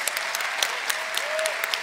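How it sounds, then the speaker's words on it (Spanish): A crowd at a spring 2024 postgraduate graduation ceremony claps steadily for the graduates, a brief burst of many hands with a few sharper individual claps standing out. "les damos un fuerte aplauso a todos nuestros graduados y graduadas"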